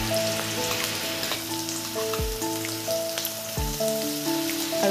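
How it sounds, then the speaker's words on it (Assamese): Sliced onions sizzle steadily in hot oil in a home kitchen pan, a continuous close crackle with faint clinks and some background tones. "এইফালে এতিয়া পিয়াজ দি দিলোঁ তেলত আৰু এতিয়া ৰঙহালৈ ভাজি থাকিম"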